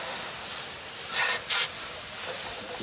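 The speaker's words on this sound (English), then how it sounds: "I'm going to take the water and spray off" Two short bursts of hissing water spray rinse dirt off rusted electrodes used for electrolysis on a 1965 AMF Super Sport pedal car, over a faint steady background hiss.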